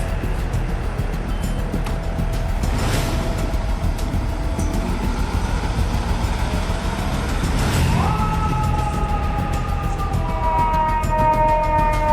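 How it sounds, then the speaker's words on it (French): A fire truck siren wails over loud, steady traffic rumble, rising and falling, then shifting into higher sweeping tones near the end. "Un fire truck, c'est un camion de pompiers."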